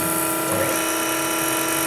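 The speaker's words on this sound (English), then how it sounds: "Yeah, that's a nice running spindle" Spindle of a Bridgeport Harig 618 EZ-SURF CNC surface grinder running steadily, a continuous close whine with a broad, even hum and no pauses or talking.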